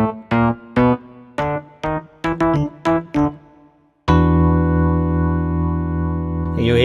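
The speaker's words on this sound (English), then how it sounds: "You hear that tremolo over it." Korg Pa5X tremolo electric piano patch plays short rhythmic chord stabs for about four seconds, then a long sustained chord shimmering with pulsing tremolo, clear and close with no talking.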